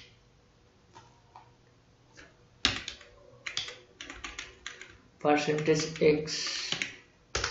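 Quick bursts of key presses on a computer keyboard while code is typed, in short clustered runs with pauses between them, under and between a man's speech.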